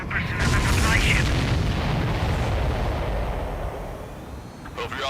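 Heavy explosions rumble and boom in the combat flight game Ace Combat 7, a dense, sustained roar of blasts with a voice speaking over the start and end.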